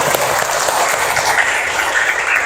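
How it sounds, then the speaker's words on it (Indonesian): A school class applauds at a teacher's prompt, a dense, even patter of many hands clapping for a couple of seconds, close and steady, with no speech over it. "Tepuk tangan dulu."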